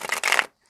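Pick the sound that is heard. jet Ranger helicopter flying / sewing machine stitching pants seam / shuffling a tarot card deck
shuffling a tarot card deck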